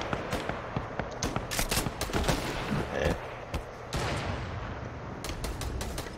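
Gunfire in the video game Fortnite, a run of sharp cracks and short bursts scattered across the scene at moderate loudness, some shots sounding nearer than others, with no talk over them.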